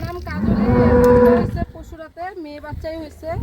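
A Holstein Friesian cow on a farm lets out one long, loud, close moo lasting over a second, followed by quieter voices talking nearby.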